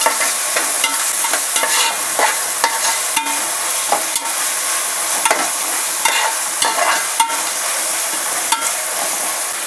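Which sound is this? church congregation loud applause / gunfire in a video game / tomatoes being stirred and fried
tomatoes being stirred and fried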